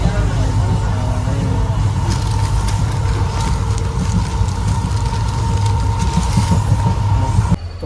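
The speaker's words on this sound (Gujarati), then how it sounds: "હજુ આપણી ટ્રેન એક જગ્યાએ ઉભી રહી છે સિહોર. હવે ઉપડી તે જોયું આપણે" A passenger train pulls out of Sihor station, its steady loud rumble and rattling carriages filling the space with sharp clicks of wheels over track joints, while voices murmur nearby inside the coach.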